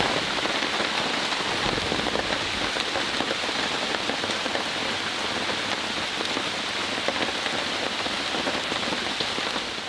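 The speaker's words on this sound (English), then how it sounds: "The heavy downpour is over." Heavy rain pours down on a tent in a dense, steady roar of drops hammering the surface, unbroken and loud from start to finish.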